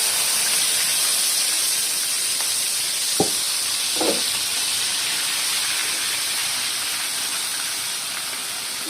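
Fish roe frying in plenty of oil in a pan, a steady close sizzle and hiss throughout, with two brief clinks or stirs partway through and no talking.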